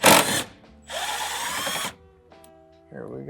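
A power tool spins bolts out of a Jeep's running boards: a short burst, then a longer whirring run, followed by a quieter stretch and a brief ratcheting tail, with someone talking nearby.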